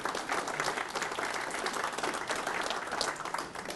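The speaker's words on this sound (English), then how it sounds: "let's give yourselves a huge round of applause for being here today" A morning community-event audience gives itself a round of applause, a steady, even roar of many hands clapping that holds throughout at a moderate distance, with no speech over it.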